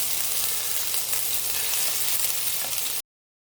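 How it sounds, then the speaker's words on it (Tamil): Ginger garlic paste hits hot oil in a pan and fries with a loud, steady close sizzle for about three seconds before cutting off abruptly. "எண்ணெய் சூடாயிடுச்சு. இப்போது 1/2 டேபிள் ஸ்பூன் இஞ்சி பூண்டு போட்டுக்கலாம்."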